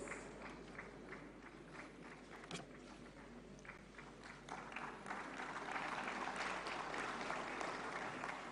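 Loud, steady applause from a large audience at a national film award ceremony, dense clapping holding throughout and swelling slightly toward the end, with a few sharper individual claps standing out.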